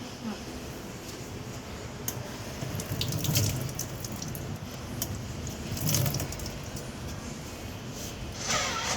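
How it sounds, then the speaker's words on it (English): Running tap water splashing steadily into a sink as hands are washed before caring for a bedridden diabetic patient, a continuous close wash with a few louder splashes. "So now I'm going to wash my hands and get back to you."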